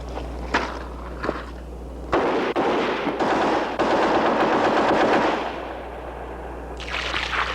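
A Heckler & Koch weapon fires after being soaked in a water test: single loud shots at first, then sustained rapid automatic bursts over a steady low hum, ending with a short final burst.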